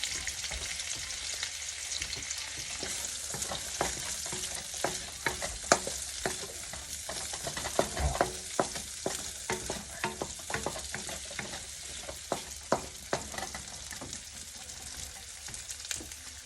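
Zucchini and broccoli fry in sesame oil and cooking oil for hibachi-style fried rice, giving a steady close sizzle broken by repeated sharp clacks and scrapes of stirring throughout, with no voices.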